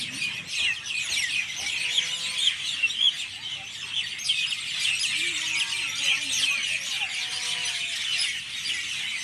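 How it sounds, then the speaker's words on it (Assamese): Many birds chirp and call continuously at dusk, a dense high chorus near a pond at a village resort in Assam, with a few squeaky calls nearer by and faint background noise. "এতিয়া সন্ধিয়া সময়ত চৰাইবিলাকে ইমান ধুনীয়াকৈ মাতি আছে, শুনকচোন"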